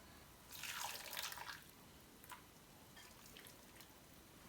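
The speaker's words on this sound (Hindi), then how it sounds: "इसमें से अब हमने गर्म पानी ले लेना है 2 कप" Hot water from a kettle is poured out for making tamarind chutney, a short splashing pour of about a second, followed by a few faint drips and clinks in a quiet kitchen.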